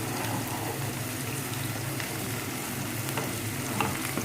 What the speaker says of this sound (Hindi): कॉर्नफ्लोर डालते डालते साथ साथ आपने चम्मच हिलाते जाना है।